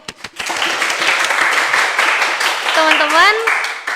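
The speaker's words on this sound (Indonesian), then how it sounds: "tepuk tangan dulu buat Fania dong" A group clapping for Fania at a school student council podcast session, a short burst of hand claps swelling quickly after a few opening claps, with a voice briefly talking over it near the end.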